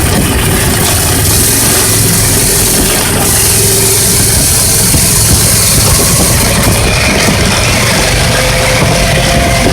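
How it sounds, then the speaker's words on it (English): Club Car golf cart converted from electric to a gas engine, driving through sand: a loud, steady engine drone with rumbling and rattling throughout, close and continuous. "Let's see how it does in the sand."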